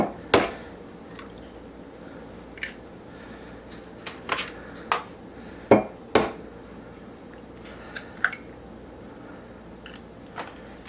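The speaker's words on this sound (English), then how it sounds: "we're just going to break them into a mug so it's easier to just handle and move into the pan" Two eggs are cracked into a mug in a home kitchen. Sharp, close taps and cracks come in scattered bursts over a quiet background, with no talking.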